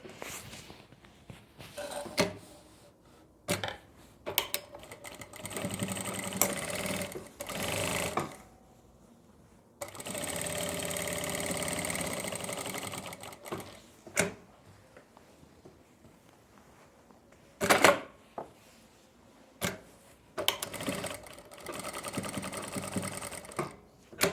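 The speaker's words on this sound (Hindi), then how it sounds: "अब हम एक सिलाई यहाँ पे लगा देंगे पॉकेट के ऊपर से।" A sewing machine runs in several close bursts of stitching, separated by short pauses and small handling clatters, as a line of stitches goes over the pocket of palazzo pants.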